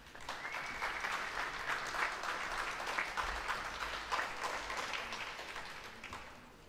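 Steady applause from an audience at a school presentation ceremony greets an award winner, even and sustained, heard at moderate distance and fading near the end.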